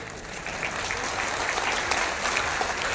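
Steady applause from a crowd, a dense patter of clapping at moderate volume throughout.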